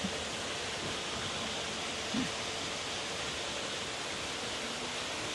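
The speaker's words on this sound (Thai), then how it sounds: "ก็จะมีน้ำตก" A waterfall at a garden restaurant in Khao Yai gives a steady, broad rush of falling water, even and continuous throughout with no voices.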